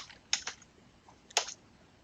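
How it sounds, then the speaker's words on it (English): Quiet clicks of typing on a computer keyboard, a handful of sharp keystrokes in two small clusters, close and soft with no speech. "And now, if I were to type Bob's name again,"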